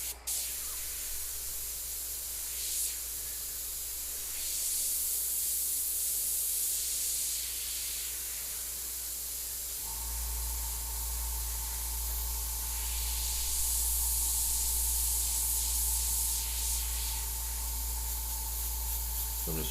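An airbrush sprays paint at Coast Airbrush in Anaheim, California, giving a steady close hiss that runs almost without a break, with a low hum joining partway through.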